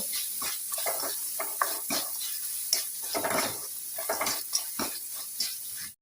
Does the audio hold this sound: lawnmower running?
no